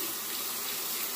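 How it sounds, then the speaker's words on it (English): Steady hiss of running tap water as a razor is rinsed under it at a sink, even and continuous throughout, close and alone. "let me rinse this razor."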